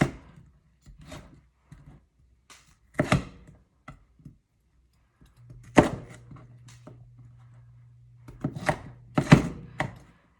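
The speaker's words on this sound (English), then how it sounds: "So I am just cutting up the vegetables" A knife chops vegetables for crockpot chili on a cutting board in sparse, uneven bursts of close knocks and thuds, separated by quiet pauses, with a low steady hum partway through.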